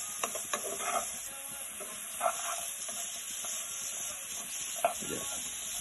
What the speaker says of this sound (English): you mix, keep on mixing, otherwise it will burn.